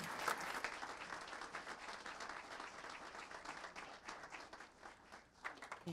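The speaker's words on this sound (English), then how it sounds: "Let's give Daphne McKinney another round of applause" An audience at a city council meeting gives a round of applause, steady dense clapping from a roomful of people lasting the full six seconds, heard at a moderate distance and fairly quiet overall.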